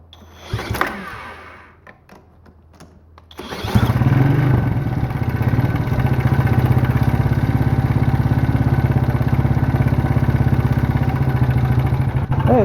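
A small quad ATV engine is pulled over and starts after a few sharp knocks and clatters, then settles into a loud, steady, close putter that keeps running with slight throttle rises and holds at a constant revving drone.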